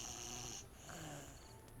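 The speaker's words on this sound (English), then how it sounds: "And snoring." Characters sleeping on the ground in the video game Timberborn give out a soft, low, rumbling snore with a faint breathy snort, quiet and steady.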